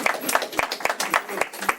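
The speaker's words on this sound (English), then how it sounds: "You give that a clap." Town board meeting attendees giving a brief round of clapping, a short burst of a few hands at a moderate distance.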